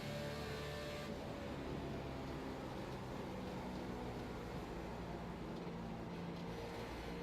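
Race car lapping the Michigan track, a steady broadband engine and road roar from inside the car, continuous and even in loudness throughout, without talking.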